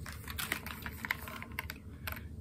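Keystrokes on a Keychron Q1 Pro mechanical keyboard fitted with banana switches, a steady run of crisp, close clicks and clacks with a few louder accented presses, no voice present.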